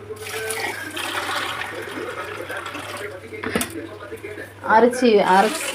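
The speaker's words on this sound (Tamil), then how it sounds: "அலசி அரிசியை வந்து நல்லா கழுவிக்குங்க" Rice being rinsed in water for beetroot rice, with sloshing, splashing water sounds rising near the end after a stretch of steady kitchen noise and a brief clatter.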